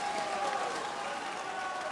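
A darts crowd at the PDC Japan Darts Masters 2015 final roars and cheers for Peter Wright, a dense, steady wash of voices and applause from a large arena audience.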